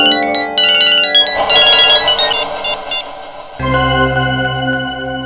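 A phone ringing with a bright, tonal electronic melody that repeats in bursts, loud and alone, with a short break before it resumes.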